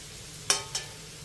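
Food frying in a pan for a Telugu home-style dish, a steady soft sizzle broken by two quick clinks of stirring close by.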